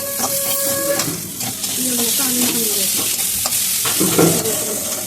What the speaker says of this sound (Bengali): পেঁয়াজ দিয়ে তারপরে একটু নাড়াচাড়া করলাম